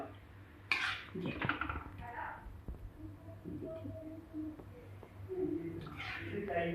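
Utensils clink and clatter while chaulai (amaranth greens) sabzi is served in a home kitchen, with a few sharp metallic taps over a low steady background hum.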